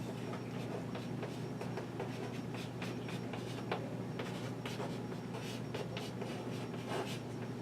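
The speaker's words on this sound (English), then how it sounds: "So now I'm going to draw a dotted line" A pen or pencil taps and scratches out a dotted line on paper in short, quick, repeated strokes, close and fairly quiet over a steady low hum.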